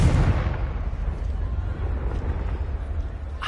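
A Confringo fire spell from the Hogwarts Legacy video game explodes with a loud, booming blast at the start, then rolls into a sustained low rumble and crackle that fades over several seconds.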